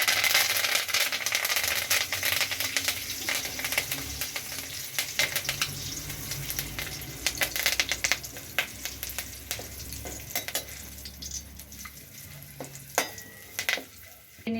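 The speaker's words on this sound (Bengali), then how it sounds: "কারি পাতাগুলো তেলের মধ্যে ভেজে নেব।" Curry leaves fry in hot oil for homemade chanachur, a steady crackling sizzle running throughout with occasional sharper pops and light clatters, no voices.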